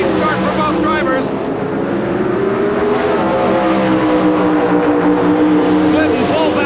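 Pro Stock drag racing cars launch at the 1987 NHRA Chief Auto Parts Nationals with a loud, sustained engine roar that fills the whole stretch, while a commentator's voice runs over it.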